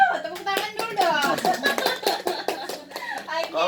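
A few people clap their hands during a live radio talk show broadcast in Lampung, a scattering of sharp claps mixed with a voice and other talk heard close by.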